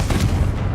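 A Confringo fire spell blasting in Hogwarts Legacy, a short, loud, booming burst with a rumbling low end that fades quickly.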